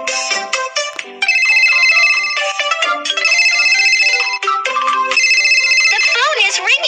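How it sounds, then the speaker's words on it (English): A telephone ringtone in a fire station cartoon plays loud, bright electronic melodic tones that repeat in steady bursts, filling the whole stretch with brief gaps between phrases. "The phone is ringing."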